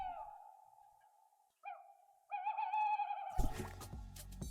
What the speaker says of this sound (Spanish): correcto es Un búho.